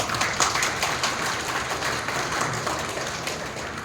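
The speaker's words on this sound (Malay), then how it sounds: "Tepuk tangan semua." Applause from an audience at the Sarawak YouTubers association launch ceremony, a dense steady patter of many hands clapping, moderately loud and continuous with no talking.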